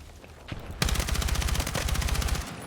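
In the video game Battlefield 6, an automatic gun fires one long rapid burst of evenly spaced shots lasting nearly two seconds. It is loud and close, with a couple of faint shots just before.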